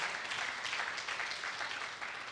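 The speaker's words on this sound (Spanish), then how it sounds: "Dale un aplauso al que vive y reina." Steady applause from a church congregation, a dense wash of clapping sustained throughout without pause or voices on top.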